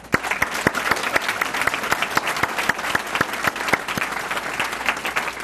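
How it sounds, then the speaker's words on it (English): An audience at the Morganton Citizens of the Year 2016 ceremony claps in sustained, dense applause, a steady roar of many hands filling the room without pause. "Let's give them one more round of applause."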